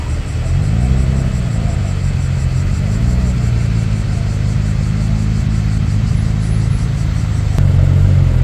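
A classic Porsche sports car at an imported-car meeting in Nagoya runs with a steady, loud engine rumble, close by, with a low throaty tone that rises and settles slightly as it idles and revs gently.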